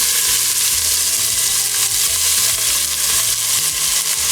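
Two medium chopped onions frying in a pan for mutton chop curry, giving a loud, continuous sizzle and crackle with no talk.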